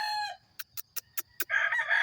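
A rooster crows at close range, a single loud crow followed by a short series of sharp clucks or calls, with a backyard flock of fighting-type roosters and hens.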